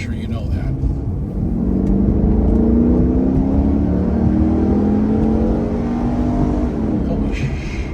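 A 2009 Pontiac G8 GT V8 engine drones loud and steady as the throttle rolls on at highway speed, its rising harmonics showing acceleration, with someone talking over it.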